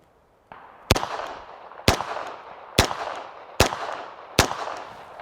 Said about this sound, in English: we'll do another 5-shot grouping. Again, 147 grain